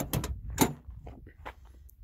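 Doors of a 1979 Honda Civic 1200 shut in a few quick, solid thuds with latch clicks, close by, followed by quieter handling sounds.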